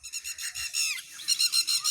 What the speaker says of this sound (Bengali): প্রচুর পাখির ডাক শোনা যাচ্ছে।